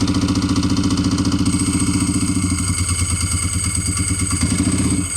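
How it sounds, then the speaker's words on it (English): A motorcycle engine cranks over on a new $30 battery and starts, giving a loud, fast, even chugging that settles into a rougher, uneven idle. "Does it have enough power to turn over the bike?"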